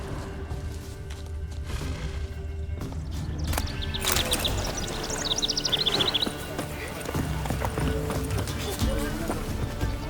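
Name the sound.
Roach the horse's hooves in The Witcher 3 video game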